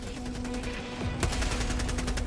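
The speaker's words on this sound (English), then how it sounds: "Give me my fucking automatic machine gun turret" Automatic machine gun sentry turret in Helldivers 2 firing steady rapid bursts, with a sharper, louder burst near the middle over constant battlefield noise and a low droning hum.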